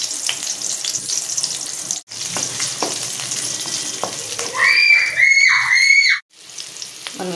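Onions and garlic cloves go into hot oil in a pan and sizzle loudly for a burst, with stirring scrapes amid the ongoing frying crackle.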